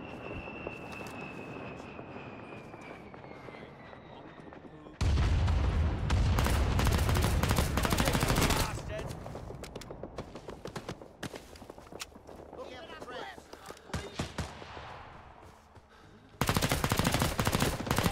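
Gunfire in a Vietnam War video game, with bursts of loud shots in the middle and at the end, separated by quieter stretches of distant combat noise and scattered sharp reports.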